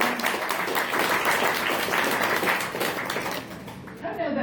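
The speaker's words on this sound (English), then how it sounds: "Maybe we could give them a round of applause." Applause from an audience at an outdoor town hall meeting on a Kentucky farm, a steady wash of clapping that fades in the last moments, where a voice begins to speak.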